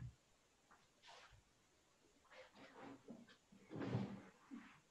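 A door is pushed shut indoors, with soft handling shuffles and then a muffled thud of it closing, faint and close, with no talking.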